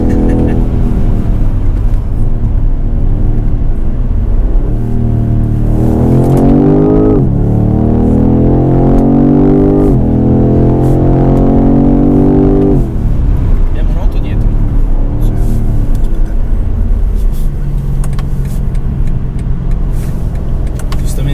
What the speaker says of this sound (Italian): qui abbiamo un bel V8 4004, 530 cavalli, 750 Nm di coppia